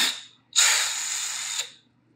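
A drill with a bigger bit countersinks into PVC in one short burst lasting about a second, a loud, close, hissing whir that starts abruptly and winds down, with near silence before and after.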